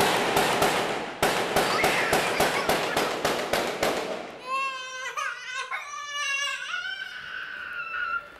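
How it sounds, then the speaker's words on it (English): Gunman shooting from a neighboring building: a rapid series of sharp, loud cracking shots for about four seconds, then a child crying and whimpering. "On the neighboring building, a crazy gunman was shooting."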